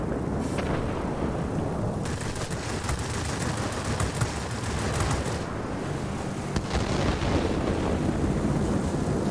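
Machine gun fire from warplanes in World of Warplanes, continuous rattling bursts that stay loud for a long stretch over a steady roar of engines.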